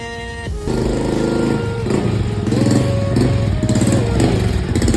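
A motorcycle engine rumbles close by, revving up and shifting pitch as it rides, loud and continuous.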